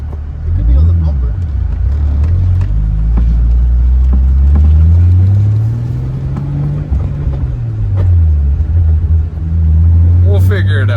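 An abandoned Toyota Supra Turbo with bent suspension drives along, its engine a loud, low rumble that rises and falls as it accelerates and eases off, with people talking inside the car.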